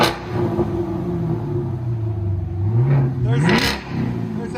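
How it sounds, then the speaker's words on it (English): A 2018 Chevy Camaro SS with a 6.2L V8 and Flowmaster Outlaw exhaust revs up loud and close, its deep rumble rising in pitch and falling back to a throbbing idle. "2018 Chevy Camaro SS. FLOWMASTER Outlaws. That sounds so good."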